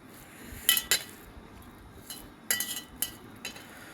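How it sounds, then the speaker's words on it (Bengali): Cutlery clinking against a plate during a meal of rice with mashed potato, a few light metallic taps and scrapes in a quiet room. "আলু ভর্তা দিয়ে ভাত খাই।"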